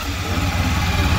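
A Fiat Fire 1.0 car engine idles steadily with a low, even rumble, close by at a used-car market in Caruaru, with no talk over it.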